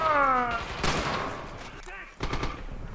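Gunfire in the WWII shooter Red Orchestra 2, with bursts of automatic rifle and machine-gun fire cracking over a busy battlefield while players talk over the shooting.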